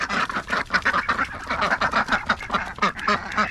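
Pet ducks quack loudly and close by in rapid, overlapping bursts, several birds calling almost continuously with a few honk-like notes mixed in and no voices.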